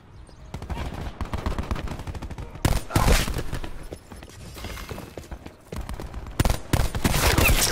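Gunfire in a Black Ops 4 multiplayer match, rapid bursts of close, loud shots in clusters separated by brief lulls, with faint game voices beneath.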